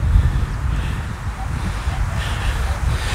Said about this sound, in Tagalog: yung hangin na tumatama sa mga pine tree